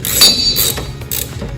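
A ratchet tightens the bolts on a corroded Jeep JK rear tire swing-out replacement hinge, giving a steady run of close, clicking, grinding mechanical strokes with a few short pauses and no talking.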